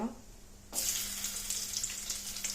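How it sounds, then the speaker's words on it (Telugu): Urad dal and chana dal tip into hot oil for a tempering, and after a brief quiet start a bright sizzle bursts up and holds steady close by, with small crackles. "ప్యాన్ ఆయిల్ హీట్ అవ్వని ఉద్దిపప్పు శనగపప్పు వేస్తాను ఇవి ఫ్రై అవ్వాలి"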